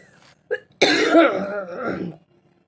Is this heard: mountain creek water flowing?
no